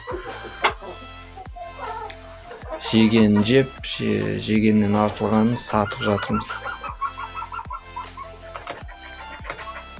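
Laying hens in a coop of about a hundred birds cluck and squawk in busy, overlapping bursts, close and fairly loud, while someone talks over them.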